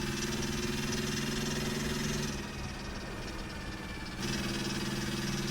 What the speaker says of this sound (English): This engine sounds so sick, though.